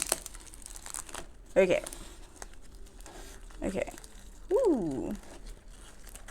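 Plastic wrapping crinkles and crackles as a packaged houseplant is unwrapped, close bursts of crumpling with a person speaking briefly over it.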